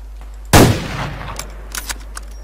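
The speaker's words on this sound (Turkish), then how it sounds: "Bir silah sesine bakalım nasılmış." A single loud gunshot from the game Survarium, a sharp close blast that decays over about half a second, followed by faint scattered clicks and small noises.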